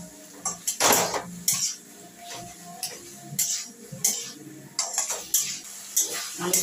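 Flowers and tomatoes being stirred in a metal pan, with repeated sharp clanks and scrapes of a utensil against the pan in irregular bursts, close and fairly loud over a low background.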